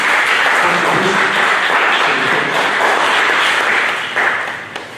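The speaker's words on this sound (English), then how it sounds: "give yourself a round of applause for the awesome contribution" A round of applause at a virtual Veterans Day celebration in East Orange, many hands clapping in a loud, sustained wash that tapers off near the end, with no talking.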